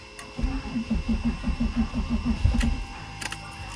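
A BMW E36 M3 starter cranks in a slow, labored rhythm on a nearly dead battery for a few seconds, each turn dragging heavily, then stops without the engine catching.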